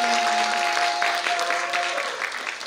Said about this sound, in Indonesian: Mari kita berikan tepuk tangan yang paling meriah untuk seluruh fasilitator talking